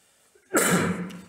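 A single harsh cough, or throat-clearing, bursts out close to the microphone after a short silence during a lecture, with no talk over it.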